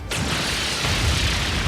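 A fire spell attack in Trails of Cold Steel 2 erupts with a sudden loud burst, then a sustained roaring, crackling blast that holds steady with deep rumbling underneath for over a second.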